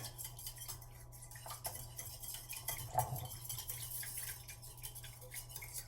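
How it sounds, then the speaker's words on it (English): Egg yolk and lemon juice for Eggs Benedict hollandaise are whisked in a bowl, making soft, quick metallic clinks and taps against the side at a low level over a faint steady hum. "Now we can go ahead and mix up our yolk and lemon juice mixture over here using a whisk."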